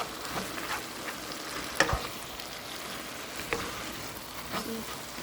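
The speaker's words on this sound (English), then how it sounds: "See, just stirring it all up." Leftover pho and rice noodles are stir-fried in a pan, napa cabbage mixed in, giving a steady sizzle broken by scraping stirs and a couple of sharper clanks from the utensil, heard alone at close range.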